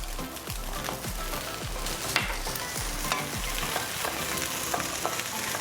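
Shrimp fried rice with spring onion being stir-fried, a loud continuous sizzle with repeated scraping and tossing strokes, close up and without talk.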